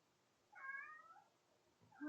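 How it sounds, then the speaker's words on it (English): An indoor cat gives two quiet meows, one drawn-out call followed by a shorter one at the very end, separated by a near-silent pause. "what is it, kitty?"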